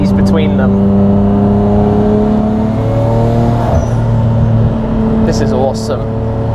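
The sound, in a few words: Paul Walker's Nissan Skyline R34 GT-R driving on open roads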